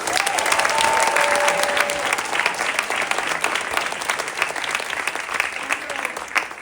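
A theatre audience applauds the cast with sustained, dense clapping and a few whoops, steady and full throughout before tapering slightly.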